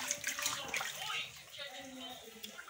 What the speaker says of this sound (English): if you don't wash it thoroughly, then the soup will become sandy